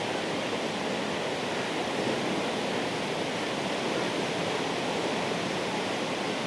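Water gushes loudly and steadily through the Makhdoom Rasheed canal branch near the Rango head regulator, a dense continuous rush with no voices over it.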